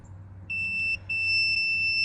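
A multimeter's continuity tester checking a fuse on an Alfa Romeo Mito gives a sharp electronic beep that cuts in, drops out briefly, then holds steadily, loud and close over a low hum.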